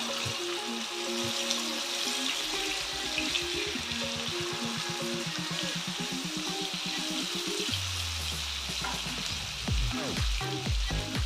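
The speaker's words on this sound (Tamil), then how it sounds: "ஒரு ஒரு மீனை வச்சு விட்டுலாம் இந்த தலைலாம் நல்லா மொறு மொறு வேகணும்" Fish frying in a little oil in a pan until crisp, a loud continuous sizzle and spatter heard up close with some stirring noise and no talking.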